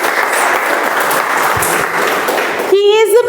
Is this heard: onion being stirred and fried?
no